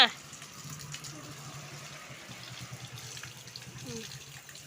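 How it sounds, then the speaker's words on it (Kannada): A tap runs steadily at moderate volume, water streaming into a basin with faint background murmur. "ನಲ್ಲಿ ನೀರಿದು"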